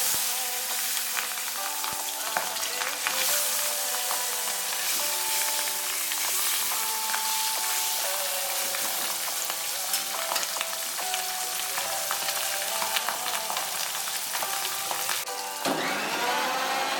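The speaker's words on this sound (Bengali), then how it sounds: "একটা একটা মাছ দিয়ে ভেজে নেব।" Pabda fish fries in hot oil in a wok, making a dense, continuous sizzle with a busy crackle throughout. The sound is close and steady, and no one speaks.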